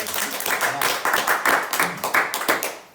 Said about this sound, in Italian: Un applauso a Angela